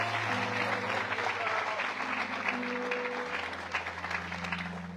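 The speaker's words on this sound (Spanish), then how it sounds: "Palmas de alabanza para el Señor." Church congregation applauding in praise at an anniversary service in Marietta, Georgia, a steady broad wash of clapping throughout, with sustained low musical tones underneath.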